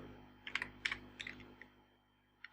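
Quiet keystrokes tap on a computer keyboard in short irregular bursts, a few quick clicks at a time with brief pauses between, close and soft in a quiet room.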